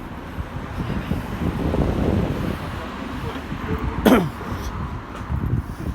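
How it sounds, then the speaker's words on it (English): A single short cough bursts out partway through, over steady outdoor wind and distant traffic rumble on a Chelmsford street near bus stops. "Do excuse my cough."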